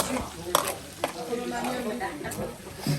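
Onions go into a hot pan for a Réunion carry, and a utensil stirs them with soft scraping and light clinks over a low sizzle. Voices talk faintly in the background.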